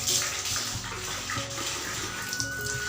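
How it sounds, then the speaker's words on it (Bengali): A sari is hand-washed with Surf detergent, producing continuous close sloshing and splashing of water with small bursts of swishing, heard alone without speech. "সেই শাড়িটাও একটু সার্ফ দিয়ে কেচে দিচ্ছি।"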